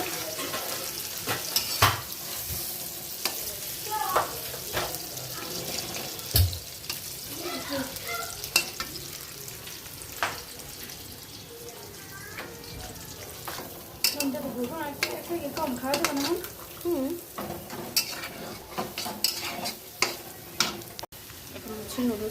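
A spatula stirs noodles in a frying pan, with repeated scraping strokes and clatter over a constant sizzle; people talk intermittently throughout.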